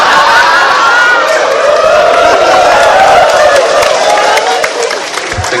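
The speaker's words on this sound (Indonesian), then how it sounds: "Yang tepuk tangannya ketok kulino." Large crowd at an Islamic religious lecture in Java clapping together, a loud, dense, sustained wash of applause with cheering mixed in, holding steady and easing slightly near the end.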